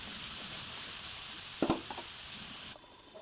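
Sliced onions fry with salt in a pan, giving a soft steady sizzle with a brief clatter of stirring midway before the sizzle eases.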